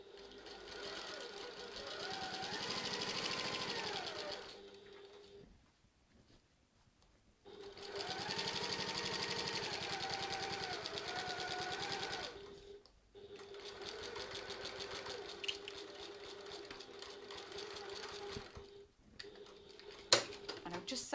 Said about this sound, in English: I'm just sewing all the way down to that side seam marking